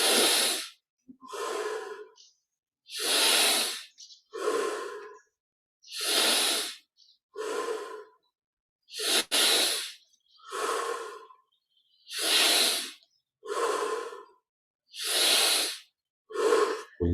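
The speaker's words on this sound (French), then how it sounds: "Inspire par le nez. Expire par la bouche." Slow, deliberate breathing during a guided meditation, in through the nose and out through the mouth: about a dozen close, clear breaths alternating soft nasal inhales with broad airy exhales, evenly paced with short pauses, no talking.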